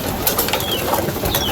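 A small flock of pigeons pecks at feed in a loft after being let in through a trapdoor, with soft scuffling, light wing flaps and faint cooing throughout, fairly close.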